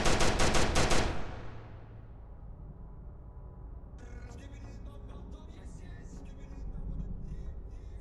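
A burst of rapid automatic gunfire from a gun in a Skibidi Toilet horror video game, loud and close for about a second. It then fades into a quieter, rumbling game ambience.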